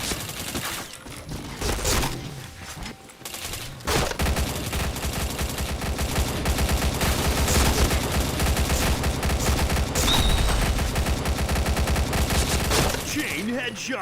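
Gunfire in a shooting video game, with dense, continuous bursts of automatic fire and repeated shots, loud and close, broken by brief quieter gaps near the start and end, with no voices.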